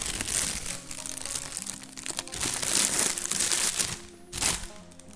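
Plastic packaging from a 7artisans 35mm f1.2 Mark II camera lens box crinkles and crunches close by, in continuous handling bursts with brief pauses, no talking.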